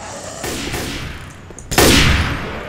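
Gunfire in the game Left 4 Dead 2: a loud burst of rapid shots, a short lull, then another sharp, heavy volley close by.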